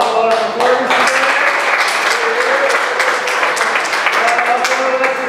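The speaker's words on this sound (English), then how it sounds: "I want to give a big round of applause to all our supporters today" An audience at a youth performing-arts academy showcase gives a big round of applause: steady, dense clapping that fills the room for several seconds, with a voice faintly audible underneath.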